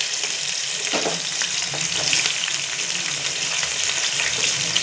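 Chopped onions sizzling and frying in a pan for beef biryani, a steady crackling hiss with occasional stirring scrapes, close and continuous.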